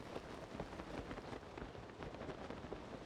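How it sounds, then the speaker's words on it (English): Steady rain pours in the video game Zelda: Tears of the Kingdom, a dense, even patter of drops on surfaces that holds constant throughout, faint and continuous with no voices. "Oh god, it's raining."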